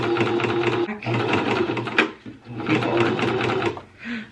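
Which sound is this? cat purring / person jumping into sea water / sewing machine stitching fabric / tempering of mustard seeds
sewing machine stitching fabric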